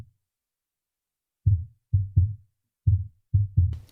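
Sub kick microphone on a kick drum in a box, tuned around 80 to 100 Hz: six deep, punchy low thumps in an uneven pattern after a silent start, each short and dry, the last one with a brief higher tick.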